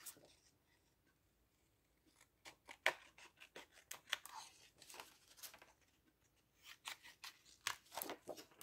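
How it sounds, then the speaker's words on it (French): Scissors snip out a small paper piece for a handmade greeting card, giving a string of short, crisp cuts in irregular bursts that stay close and fairly quiet after a near-silent opening. "Je vais venir le découper et le coller sur ma petite carte."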